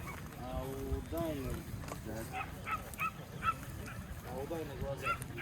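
Several sharp yips and barks from a young female dog at a dog show in a busy hall, with people talking over a low crowd murmur.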